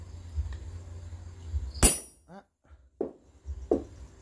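Hammer blows on metal in a smithy in rural Hau Giang, Vietnam: one loud sharp ringing strike, then a few fainter clanks spaced about a second apart. No voices.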